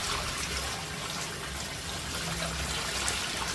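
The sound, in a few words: water flowing down an unblocked sink drain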